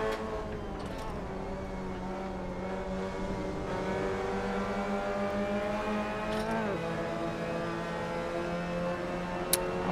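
A race car in Assetto Corsa accelerates with a steady, high engine whine that climbs in pitch and holds close and loud, with a brief click near the end.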